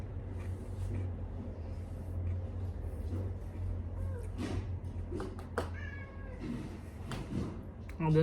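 Domestic cat meowing several times, short wavering calls of moderate loudness, over a low rumble of road traffic.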